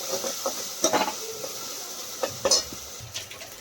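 A spoon stirs curry with onions in a pot, producing a few intermittent scraping and clinking strokes over a faint sizzle, quiet and close with no talking.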